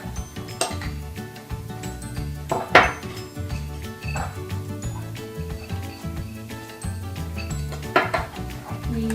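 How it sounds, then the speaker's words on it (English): A spoon stirs jelly in a glass jar while sandwiches are being made, giving scattered clinks and scrapes of metal on glass. The sounds come in short bursts over a low background, close up. "make sure you stir it up so that the piece of the stuff inside the jelly doesn't get separated"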